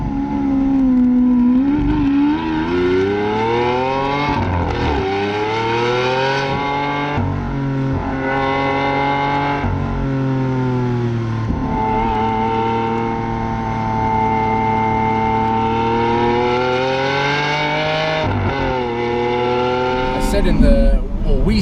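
A Lamborghini Aventador SV V12 engine revs and drones loudly and steadily, its pitch rising and falling through several throttle swells, heard close up with no talking over it.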